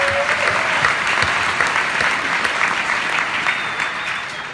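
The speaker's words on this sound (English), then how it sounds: "give them another round of applause" Steady applause from a large crowd at a physical education teachers' conference opening session fills the whole stretch, dense and sustained with no talking over it.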